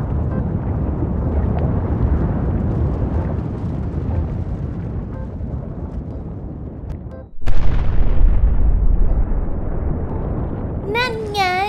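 A cartoon volcano eruption effect in a Thai children's story: a rumbling roar builds, then a sudden loud boom gives way to a heavy, sustained rumble, with a rising whistle-like tone at the end.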